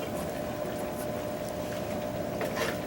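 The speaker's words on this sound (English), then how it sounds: "I'm going to get some of the watering done right off the bat by getting this with some water in it" Water running steadily into a container of dry, peat-heavy potting mix, a continuous close bubbling gurgle with no talk.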